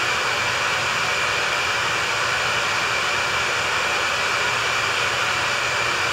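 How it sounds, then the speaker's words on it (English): Broadband white noise plays steadily from a single loudspeaker during an acoustic measurement demonstration, a loud, even hiss that holds unchanged for several seconds with no other sound. "So we'll start the white noise and take a baseline level with a single speaker."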